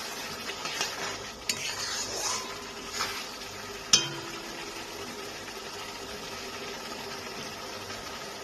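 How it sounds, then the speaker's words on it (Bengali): Tomato masala for bhetki fish head and bones is stirred in a pan, with a few soft scraping strokes and one sharp metal clink over a low, quiet, continuous sizzle. "টমেটোটা দেওয়ার পরে ভালো করে কষানো আমার হয়ে গেছে"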